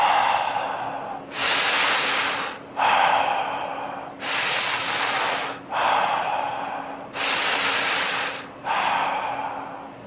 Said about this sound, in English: So breathing in and out of the mouth.